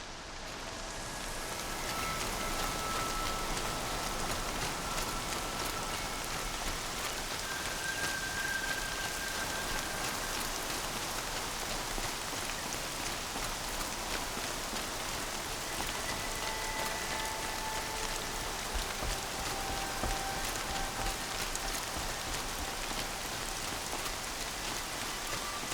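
Steady rain falls without pause in the video game Horizon Zero Dawn, a dense, even hiss of raindrops on surfaces, moderately loud and continuous throughout, with no voices.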